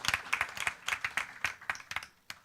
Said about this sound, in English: a big round of applause to these 3 people and their team members